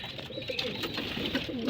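Racing pigeons coo repeatedly close by, soft throaty calls overlapping in a steady rhythm with faint background bird noise.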